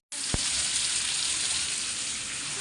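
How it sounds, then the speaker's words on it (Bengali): Potatoes with turmeric fry in a pan, a steady, loud sizzle that holds evenly throughout, with one brief sharp knock near the start. "এটাই ভাইজা নেব, একটু হলুদ দিয়ে দিলাম। ভালো করে এবার আলুরে ভাইজা নেব।"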